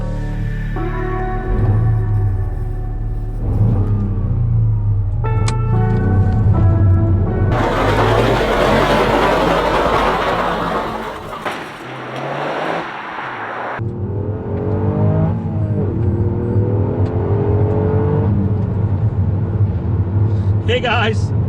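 A Toyota GR Yaris engine drones and revs under continuous talking, with one burst of louder rushing noise midway through.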